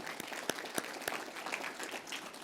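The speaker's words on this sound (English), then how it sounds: "Please stand up and let's give these guys a round of applause" Audience applause at an eHealth Exchange annual meeting, a quiet, distant patter of many hands with a few sharper individual claps standing out.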